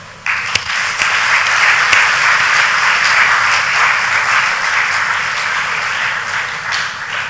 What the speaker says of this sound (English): So let's give Chief Edwin Clark another rise of applause.